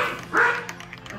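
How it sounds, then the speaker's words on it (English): Household dogs let out one short, moderately loud bark indoors, followed by faint scattered rustles and small noises, with no talking. "Don't mind my dogs."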